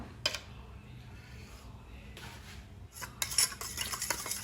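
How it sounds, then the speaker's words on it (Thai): A pork marinade of palm sugar and tamarind water being stirred in a bowl, with soft scraping and clinking of a utensil that grows busier toward the end, heard alone without speech. "คนส่วนผสม ให้เข้ากันเลยนะจ๊ะ"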